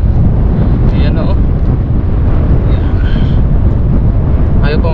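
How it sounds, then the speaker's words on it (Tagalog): Strong wind buffeting the microphone outdoors while fishing, a loud continuous low roar that fills the whole clip with faint background sounds behind it. "Pasensya na kayo kung rinig nyo yung hangin."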